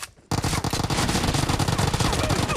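Rapid automatic UZI fire in the PUBG video game, a loud close burst of dense, evenly spaced shots that starts abruptly after a brief quiet moment and keeps rattling without a break.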